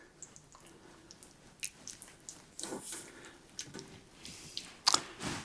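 Shredded chicken is mixed in a bowl, giving soft, wet squishing and scraping sounds in irregular bursts, quiet and close.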